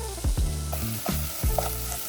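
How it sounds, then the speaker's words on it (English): Shallots sauté in butter in a pot, a close bright sizzle broken by several thuddy stirring scrapes and knocks of the utensil against the pan, with no talking. "I wanna saute these shallots up for about 2 minutes or so"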